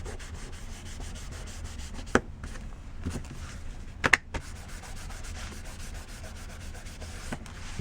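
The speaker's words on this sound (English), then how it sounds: "Give it a burnish." Paper glued onto a legal notepad cover is burnished by hand, giving a steady soft rubbing and scraping that runs throughout, with a few sharp taps partway through, close and fairly quiet.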